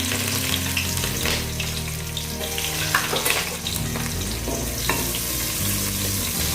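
Sliced onion hitting hot ghee with whole spices for ghee rice, a loud close sizzle and crackle of frying with stirring scrapes, continuous throughout without speech.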